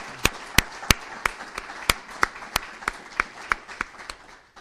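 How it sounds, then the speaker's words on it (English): Applause for nominees at an end-of-year celebration, a sparse, regular series of sharp, close claps over a faint background wash of other hands. "a round of applause for these nominees"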